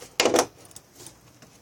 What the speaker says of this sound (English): Let me get my keys in my other hand.